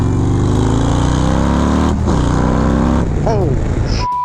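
Harley-Davidson motorcycle with its largest-ever 2.2-liter engine, fresh from a performance modification, pulling hard under acceleration with loud, near engine roar climbing in pitch across gear shifts, a brief dip before surging again.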